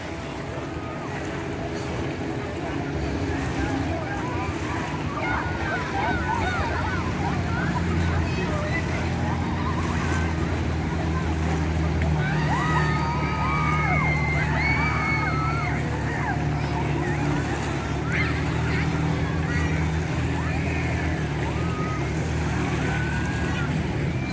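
A jet ski engine hums steadily over wind and water noise on Kham Sombun beach, Bueng Khong Long, Bueng Kan, Thailand, with voices talking throughout.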